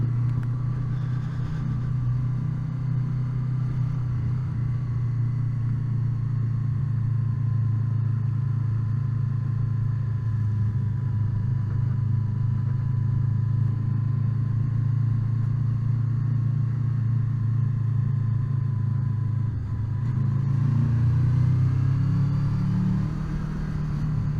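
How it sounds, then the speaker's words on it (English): A Honda VFR800 motorcycle engine hums smoothly while riding, a steady low drone with wind rush that holds for a long stretch, then briefly shifts pitch and swells near the end. "Lovely engine this is, though. There's no vibrations that I can feel at all at the moment"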